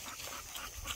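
A dog whimpers and pants softly close by, with quick breathy pants and faint high whines scattered through a quiet, brief stretch with no talking.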